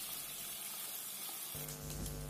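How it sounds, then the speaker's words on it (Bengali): Prawns fry in a pan with a quiet steady sizzle and hiss, which swells suddenly partway through as the pieces are turned, heard alone without talk. "এখানে চিংড়িগুলো হালকা ভাজা ভাজা হয়ে এসছে"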